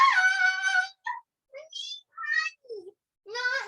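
A cat meows in a series of short, varied calls, some drawn out and some brief, close to the microphone with gaps between them.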